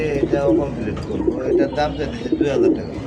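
Several pigeons coo in soft rolling bursts close by, a pair at the nest among them, with a voice speaking over the calls.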